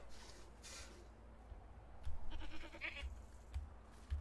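Goats bleat in the livestock pen of Medieval Dynasty, with a few short calls including young kids, fairly near and of moderate loudness over a steady ambient game background.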